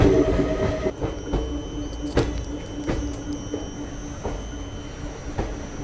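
A Vijayapura–Mangaluru Express train rolls into Sakleshpur station, with steady rumbling rail noise, repeated clacks of wheels over track joints and a faint high metallic whine from the wheels, all close and continuous with no speech.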